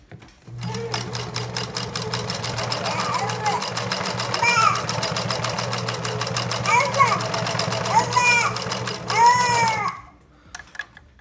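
A Singer 6212C sewing machine stitches steadily for about nine seconds in a rapid, even mechanical hum with a regular needle beat, while a person talks over it, then the motor stops and it goes quiet.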